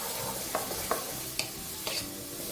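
Onions fry in a pan over medium-low heat with a close, steady sizzle. A spoon stirs them, giving a few sharp scrapes and clicks.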